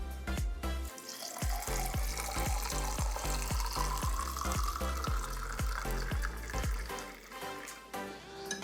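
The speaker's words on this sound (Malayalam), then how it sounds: "നമ്മൾ 1 ഗ്ലാസ്സിലേക്ക് ആദ്യം നമ്മൾ ഷുഗർ ചേർത്ത ജ്യൂസാണ് ഒഴിക്കുന്നത്." Rose apple juice sweetened with sugar pours into a glass over ice, a steady liquid stream whose pitch climbs as the glass fills, with a regular ticking pulse behind it.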